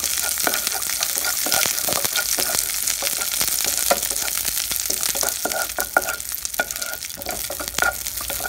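Raisins and cashews fry in a pan, giving off a steady, close sizzle with scattered stirring clicks and scrapes throughout, and no voices.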